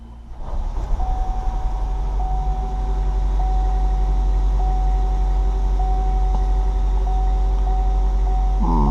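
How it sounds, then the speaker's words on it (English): Gen1 Chevy Volt engine starting after a fuel line repair: a low steady running drone settles in after about a second and holds evenly, with a faint repeating electronic chime ticking above it, no voices. "Now we're going to run the engine because the fuel line got pulled."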